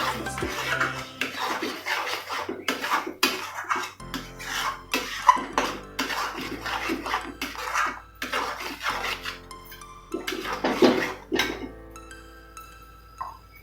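Mustard and cashew paste is stir-fried with prawns in a pan, making scraping and clinking of a spatula against metal, close and steady, with occasional sizzling and no speech.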